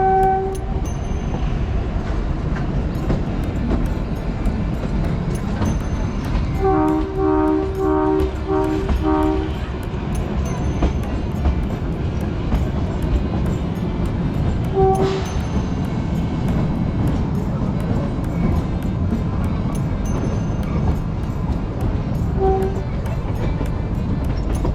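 The Kalka-Shimla toy train rumbles along steadily with a loud continuous roar of wheels and carriages, and its horn blares briefly in a short burst partway through.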